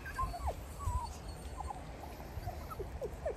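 Dogs outdoors whimpering excitedly near a poultry coop, a series of short high whines and squeaky yips scattered over a faint rustling background, fairly quiet and close.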